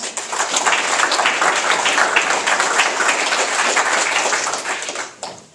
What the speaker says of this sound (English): So a round of applause for Mr. Don Watkins